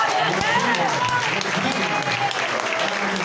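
A church congregation in Itiruçu claps together in a dense, steady burst of applause, with voices calling out over the clapping.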